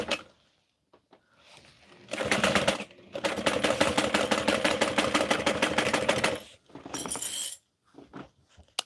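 Sewing machine stitching bags, a steady loud mechanical whir and rattle running for several seconds with short starts and stops, plus a few clicks and clinks around it.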